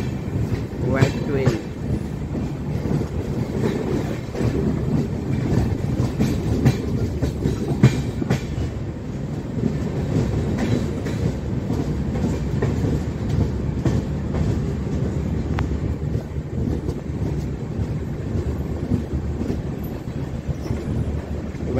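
Pune–Nagpur AC special train running on rails, a steady loud rumble of wheels with faint rhythmic clickety-clack throughout, heard from on board.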